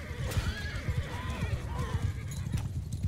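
Horses neigh and whinny in a Mount & Blade II: Bannerlord battle, several whinnies over dense hoofbeats and clatter, with voices talking underneath.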